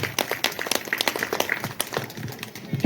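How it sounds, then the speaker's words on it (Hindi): Loud applause rings out at an animal fair in rural India, a crowd of villagers clapping in a dense, steady burst that continues through the whole stretch without talk. "बहुत जोरदार तालियां"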